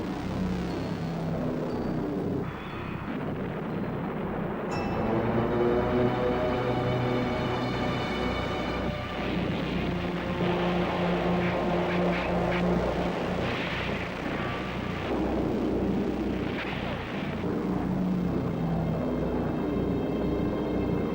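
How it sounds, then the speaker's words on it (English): Allied Typhoon fighter-bombers attacking with rockets and strafing, a loud continuous aircraft engine roar with rumbling bursts throughout. "Allied aircraft ran riot over the area, rocketing and strafing the trapped German divisions"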